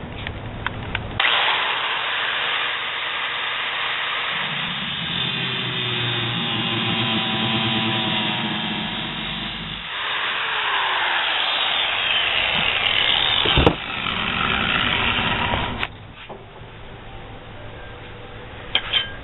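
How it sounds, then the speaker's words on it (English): A power tool cuts a 15-inch steel planer blade in half, a loud, sustained grinding whine that changes tone as the cut progresses, then stops abruptly near the end. "I just take a 15-inch blade and cut it in half."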